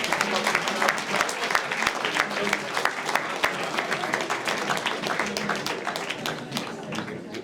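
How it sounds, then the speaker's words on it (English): An audience at a summit event claps for a speaker, a sustained round of applause with distinct individual claps up close and voices talking underneath. "So, round of applause for Robbie."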